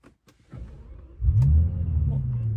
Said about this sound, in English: Oh, the startup sound of this car is really something else here.